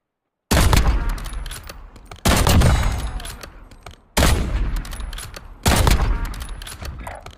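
Gunfire in the Call of Duty video game, four loud bursts of rapid shots, each starting abruptly and then tapering off with reverberant echo, no talk over them.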